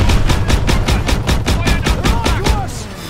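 Rapid automatic gunfire from the World War II shooter Call of Duty WW2, loud and close with rhythmic bursts of shots over a rumbling battle background, a ricochet-like whine near the end.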